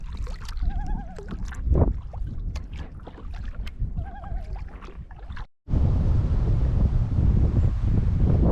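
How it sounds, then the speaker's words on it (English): Strong wind sweeping over Bull Lake in Temagami, Northern Ontario: rustling and scattered knocks at first, then after a brief dropout a loud, steady broadband roar of wind buffeting the microphone, with no talk. "Woke up to a nasty wind this morning on Bull Lake."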